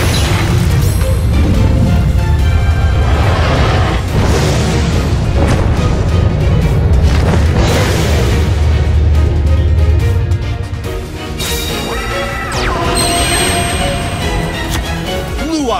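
Summoning Blue-Eyes Alternative White Dragon in Yu-Gi-Oh! Duel Links brings a loud, sustained burst of booming game effects and dramatic music, which crashes on for about ten seconds and then eases into a quieter shimmering tail.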